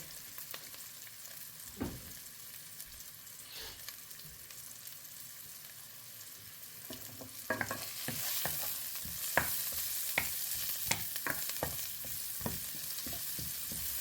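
Vegetables stir-fried in a pan before rice goes in: a soft, steady sizzle with intermittent scraping and clatter from stirring, growing busier and louder in the second half.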